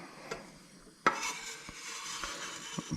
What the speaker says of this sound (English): let the butter melt gradually while stirring constantly on a